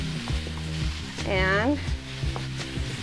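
Food sizzles and fries in a pan throughout, a steady hiss with stirring clatter, while a person talks over it, briefly rising in pitch mid-way.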